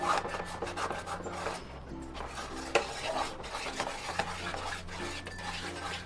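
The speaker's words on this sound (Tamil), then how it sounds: "இந்த எண்ணெய் எல்லாம் சுற்றி வர மாதிரி நல்லா கிளறிடணும்" A spoon scrapes and stirs thick palm jaggery adhirasam dough mixed with sesame oil in a pan, irregular rubbing and scraping strokes close by, with a sharper knock of metal partway through.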